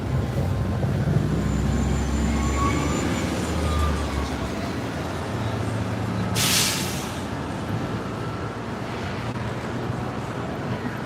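A downtown 6 subway train rumbles through Astor Place station in Manhattan, a steady low roar with a brief hiss of air brakes on a busy night street.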